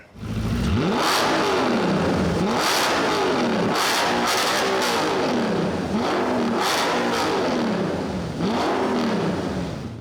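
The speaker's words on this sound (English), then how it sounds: "This car has an aftermarket exhaust on it, and it really opens up this V8." A first-generation Audi R8's powerful V8 engine revs hard several times through a loud aftermarket exhaust, each rev rising and falling in a deep rhythmic roar.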